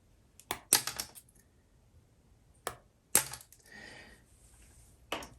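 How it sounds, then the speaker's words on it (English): A few sharp, crisp scissor snips close by, separated by quiet pauses, with a little rustling in between. "What I'm going to do is with the scissors, cut an angle of each corner."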